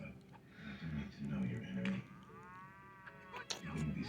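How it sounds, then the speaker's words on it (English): Cattle moo loudly several times in overlapping calls, one long drawn-out low over a busy background of voices and clatter. "These farmers' cows are just a little excited about breakfast."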